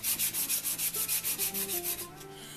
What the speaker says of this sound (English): This is a 500 grit sandpaper, so I'm not taking off a whole lot.